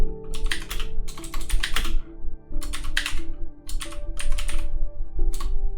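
Rapid bursts of computer keyboard typing in clustered runs with short pauses, close and clear over a steady low room hum and faint tonal background sounds.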